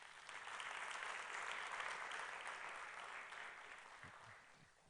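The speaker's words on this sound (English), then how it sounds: "Give these panelists a big round of applause" Conference audience applauding panelists at a plenary session, a steady wash of clapping that swells and holds for several seconds before slowly thinning, heard from within the hall.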